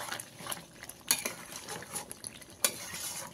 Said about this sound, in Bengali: আমি এইভাবে ভালো করে চিকেনটাকে কষিয়ে নিয়েছি।